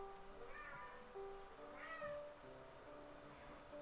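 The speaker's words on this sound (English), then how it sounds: "I don't know if you guys hear my cats, but one of them is screaming his head off." A pet cat meows loudly in a room, two drawn-out cries about a second apart, heard alone over a steady background hum.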